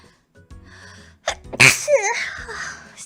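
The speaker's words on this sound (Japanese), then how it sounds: "ウコンの話してたらくしゃみがムズムズしてしまった。" A single sharp, close human sneeze from a female streamer, preceded by a brief inhaling buildup and followed by a short vocal trailing sound.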